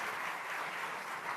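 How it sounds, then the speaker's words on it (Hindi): Loud, dense applause from an audience cheering for Bobby Deol fills the whole stretch without a break, steady and close. "यार एक बार जोरदार ताली बॉबी पाजी के लिए हो जाए।"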